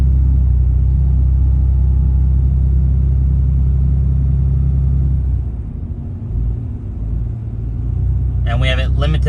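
A Ram Cummins 6.7 diesel pickup with an upgraded intake and intercooler tubes and boost limited to 32 psi makes a deep, loud, sustained engine rumble under full throttle. The drone dips briefly midway and then builds again.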